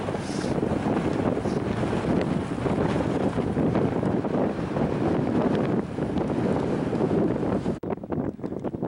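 Strong, cold, gusting wind on a high mountain hike near Hallett Peak above a glacier. Loud, continuous roar buffets the microphone with no talk.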